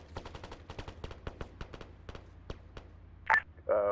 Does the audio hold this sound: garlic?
no